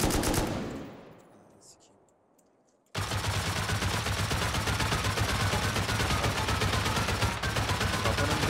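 In the video game Rust, a loud burst fades away, then dense continuous automatic gunfire erupts and holds steady for several seconds, heavy and close.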